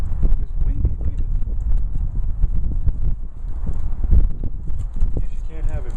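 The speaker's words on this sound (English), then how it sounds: "Look, it's windy." Outdoor wind gusts buffet the microphone on a blustery day, a steady low rumble that swells and dips throughout while a person talks over it.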